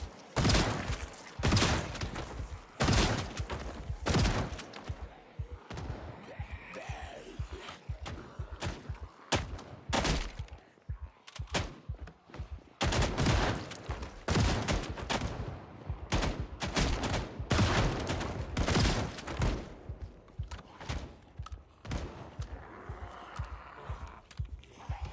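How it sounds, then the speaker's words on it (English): Shotgun blasts in a video game, fired as many sharp, loud reports in irregular clusters with short pauses between bursts, close and dominant. "maybe we just pop off with the shotgun"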